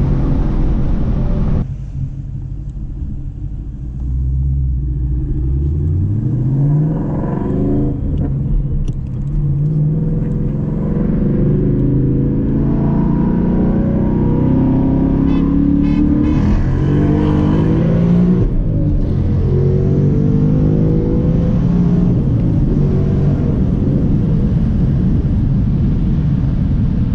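A modified Dodge Charger Scat Pack and an S550 Ford Mustang rev and run side by side, a loud, close, continuous engine roar rising and falling in pitch for nearly half a minute with no talk.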